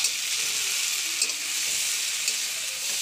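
Tomatoes fry in a pan for a village-style rohu fish curry, rui macher jhol, making a bright, steady sizzle with a few light stirring taps and no voices.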